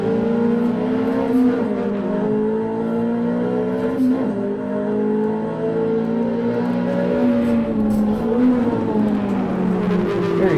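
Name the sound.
Ferrari 360 engine driving Nürburgring Nordschleife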